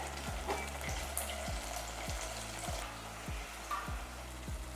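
A whole green chili frying in hot oil for a vegetable soup, a faint, steady sizzle with a regular low thumping pulse underneath, quiet and close, with no talk.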